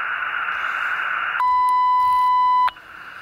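An automatic antenna tuner on an amateur radio set for a 20 m dipole beeps once with a long steady tone lasting over a second, cutting through a constant band of radio hiss and static.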